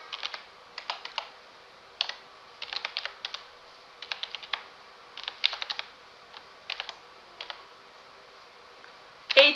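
Someone types code on a computer keyboard at close range, with bursts of quick, crisp key clicks separated by short pauses and no talking.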